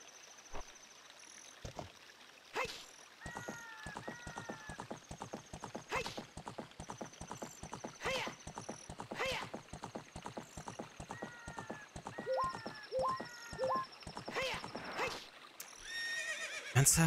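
Horse in The Legend of Zelda: Ocarina of Time, with steady rhythmic hoofbeats clip-clopping throughout and a few whinnies and neighs over them, fairly quiet and game-like.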